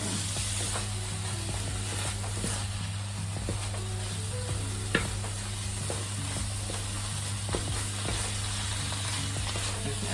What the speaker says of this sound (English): And then we're gonna stir it all in.